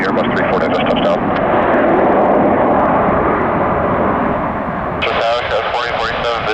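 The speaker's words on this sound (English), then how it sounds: "Airbus A340 just touched down." An Airbus A340 lands at Detroit Metro Airport, its engines producing a loud, steady roar that fills the whole clip, with radio chatter from air traffic control audible over the noise.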